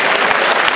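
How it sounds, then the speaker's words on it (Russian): Loud, dense applause from a studio audience greeting a line-up of Tatar TV presenters as they are introduced on stage at a concert show, steady and sustained throughout. "Я думаю, вы сейчас бурными аплодисментами их встретите."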